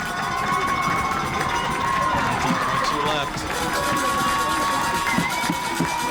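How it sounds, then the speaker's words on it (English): A rowdy sideline crowd at a boys' varsity lacrosse championship game keeps up a continuous roar of cheering and shouting, with an announcer's voice commentating over it. "the crowd is getting rowdy on the sideline"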